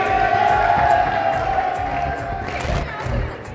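A game show audience makes a loud, continuous roar of crowd noise with cheering and clapping mixed together. It is steady at first and tapers off slightly toward the end.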